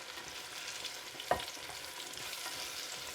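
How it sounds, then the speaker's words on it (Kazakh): Carrots fry quietly in a pan under a soft, continuous sizzle, with one brief scrape or clink of the stirring utensil partway through and no voices. "Сәбізіміз бізге қажетті деңгейде қуырылды."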